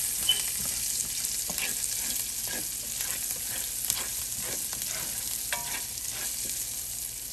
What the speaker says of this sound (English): I'm going to saute these for a little while